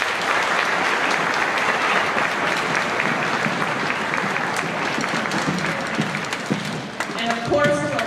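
A spring band concert audience of parents, families and community members gives band students a big round of applause, loud and steady throughout with a few voices rising above near the end.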